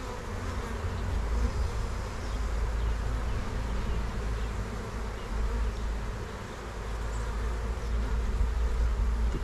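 Honey bees from a week-old package colony hum in a dense, steady drone while the hive is opened for inspection, close and continuous with no voices.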